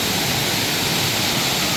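Rushing water tumbles over a small waterfall beside a pool, a loud steady hiss and roar heard up close without any talk.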